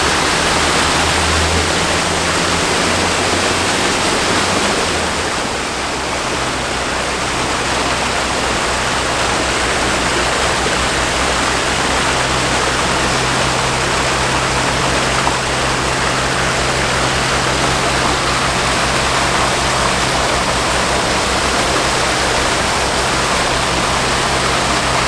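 Liquid agitating inside a frac tank on a farm, heard from on top of the tank: a loud, steady rushing churn of water with a constant low mechanical hum underneath, unbroken throughout.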